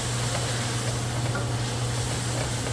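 Garlic powder being stirred and sizzling in a pan for a beef tortellini red sauce, a soft steady frying hiss with faint stirring scrapes under a constant low hum, quiet and close.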